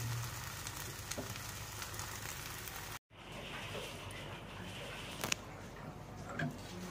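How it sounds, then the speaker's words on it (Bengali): Tea boiling in a pot, a steady close hissing bubble that drops out for a moment and then continues with occasional small pops. "চা ফুটছে মানে"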